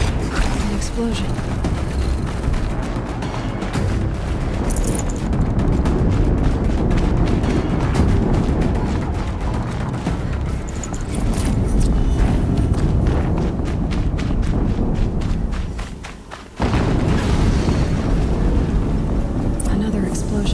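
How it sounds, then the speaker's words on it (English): Explosions in the video game Horizon Zero Dawn, part of a dense, loud stream of combat noise with booms and mechanical clatter, broken by a short drop near the end, with a voice speaking over it. "Another explosion."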